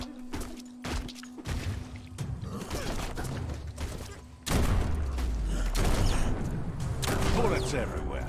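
Gunfire rattles through a Biomutant video game fight in loud, repeated bursts and heavy impacts, with a voice talking over the shooting throughout.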